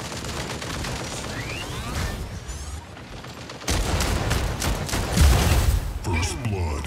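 Gunfire in a team-based shooter video game: rattling bursts and thumping shots in quick volleys, fairly loud, with a voice speaking over parts of the action.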